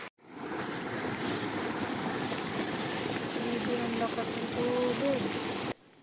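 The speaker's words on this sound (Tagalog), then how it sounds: "Lumakas na nga ang agos ng tubig dito sa kanal dahil medyo matagal nga ang ulan." Rushing water flows strongly through a drainage canal after prolonged rain, a constant broadband roar with a faint voice murmuring beneath it, close and steady until it stops abruptly.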